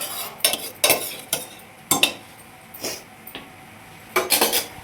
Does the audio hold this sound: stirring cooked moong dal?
yes